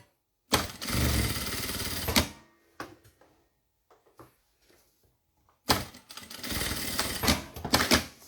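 A sewing machine runs in two loud bursts of rapid stitching, backstitching at the start of a seam on a double pencil case, with short pauses and light handling clicks between the runs.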